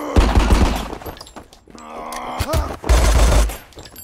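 Bursts of submachine gun fire in the video game RICO, loud rapid volleys at the start and again near the end, with a short metallic ringing in the middle and no talk.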